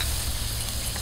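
Vegetables and river snails simmer in water with salt and turmeric in a pan, making a steady, soft bubbling hiss that fills the short moment without any voices.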